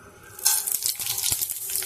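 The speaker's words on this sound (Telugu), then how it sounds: "అదే నూనెలో పోపు దినుసులు వేసుకొని" Whole spices tempered in hot oil for an egg curry sizzle and crackle steadily, close by, with a few sharp pops through the hiss.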